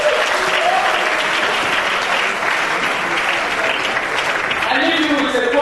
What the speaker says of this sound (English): So I need you to just please applaud yourselves.